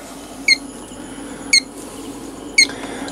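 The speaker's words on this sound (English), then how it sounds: "And I apologize for the beeping" Three short, evenly spaced electronic beeps from egg-candling equipment while a broiler egg is checked, each chirp brief and fairly loud over a faint steady hum.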